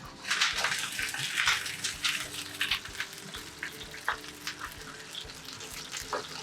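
King salmon searing in a hot pan, a steady crackling sizzle with scattered sharp pops throughout, fairly close and continuous with no talk over it.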